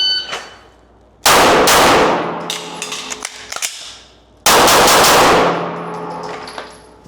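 Pistol fire in a fast shooting drill: a loud shot with steel targets clanging and ringing after it, then a second sharp shot a few seconds later, close and echoing, with no talking.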